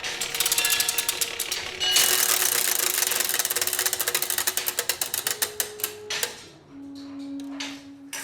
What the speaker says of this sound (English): This is the machine at the heart of the Zeitglocke.